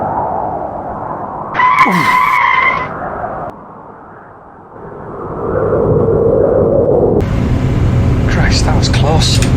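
In an animated film, a plane crash-lands on a runway with a loud, close roar and a long skidding scrape. Someone speaks briefly early on.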